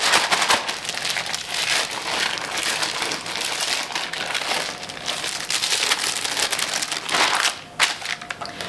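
Steady crinkling and rustling of a plastic piping bag being shaken, continuous and close, with a brief sharper crackle near the end.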